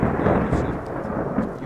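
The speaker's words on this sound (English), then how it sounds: "I think the lightning might be a bit loud. Thunder." Steady, heavy rumbling thunder rolls throughout a stormy scene in the video game Skyrim, loud and continuous with faint rain texture and no voices.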